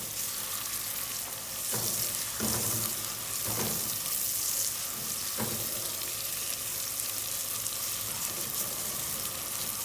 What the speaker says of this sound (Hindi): हल्का सा इसको फ्राई करूँगी ताकि इसका जो कच्चा पानी है ना वो ख़त्म हो जाए।